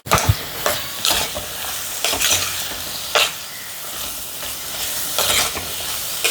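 Small shallots, curry leaves, coconut slivers and green chillies sizzle in a hot pan, a close, steady frying hiss punctuated by repeated scraping strokes of a spoon stirring the mix, no voices.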